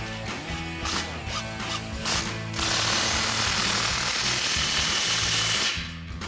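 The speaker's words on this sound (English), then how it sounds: "grab your 15mm socket and tighten it down." A 15mm socket tightens the clamp on a 2022-2024 Toyota Tundra MBRP Armor Pro exhaust, first with a rapid ratcheting clatter, then a continuous whirring power-tool buzz that cuts off near the end.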